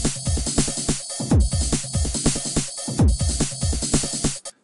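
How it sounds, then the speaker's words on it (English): HammerHead Rhythm Station in Reason plays its "chemical" drum pattern: loud, punchy electronic kicks with bright hi-hats and snares in a steady looping rhythm, alone without talk, stopping abruptly at the end. "So HammerHead's a pretty cool little rhythm station."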